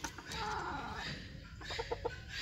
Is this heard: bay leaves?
no